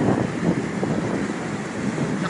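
Strong wind buffets the microphone over rough, high sea waves on a fishing trip in Australia, a steady loud roar with no voices.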